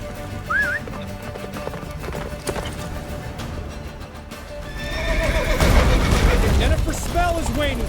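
Geralt's horse Roach gallops in The Witcher 3 with rapid clip-clop hoofbeats and a loud neigh near the start, while a voice speaks and a chaotic battle swells in the background during the second half.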